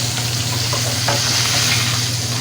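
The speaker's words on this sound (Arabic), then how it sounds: "تعالوا بقى يا بنات نقلب ايه السمك" Pieces of fish fry in hot oil with a loud, constant sizzle and crackle, close up, as they are turned in the pan, with a few faint scrapes and no talk.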